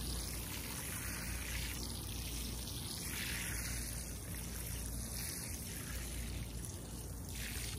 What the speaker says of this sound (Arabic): نضيف ماء حتى تتشبع